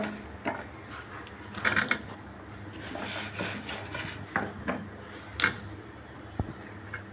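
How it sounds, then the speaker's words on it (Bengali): Hog plums being stirred into soft, cooked lentil dal in a pot, giving repeated faint scrapes and knocks of a spoon against the pot, with a sharper clink near the end and no talking. "আমরাগুলো দিয়ে ভালো করে নেড়ে নিচ্ছি"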